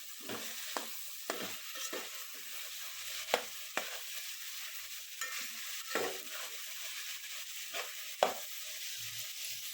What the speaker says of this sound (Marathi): थोडीशी आलं लसूणची पेस्ट पण टाकायची यामध्ये. चांगलं परतून घ्यायचं आहे.